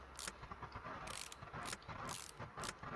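A ratchet wrench loosening gearbox bolts on a Jeep Willys in Car Mechanic Simulator 2018, a few quick bursts of clicking ratchet strokes at even spacing, faint and close over a low hum.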